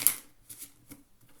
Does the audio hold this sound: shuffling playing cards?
yes